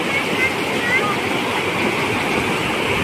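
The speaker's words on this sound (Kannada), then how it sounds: "ಆ ಜುಳು ಜುಳು ನೀರಿನ ಬೋರ್ಗರೆತವನ್ನು ಕೇಳಿದಿರಲ್ಲ" A water stream at Penna Ahobilam temple rushes steadily and loudly, a dense continuous broadband wash of flowing water filling the whole clip with no talk over it.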